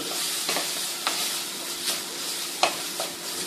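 Tomatoes sizzle steadily in a hot pan for a bitter gourd side dish, with a few sharp spatula clinks over the continuous close frying hiss.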